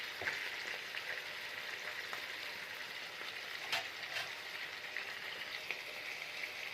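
A large spoonful of garlic, added with salt to chicken liver and gizzards, sizzles and crackles steadily in a hot pan, soft and close with no talking.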